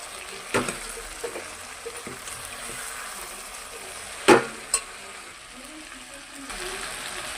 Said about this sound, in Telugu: ఇదంతా ఒకసారి బాగా కలిపేసుకుందాము